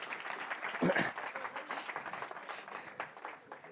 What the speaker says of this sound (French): est-ce qu'on peut applaudir les gars?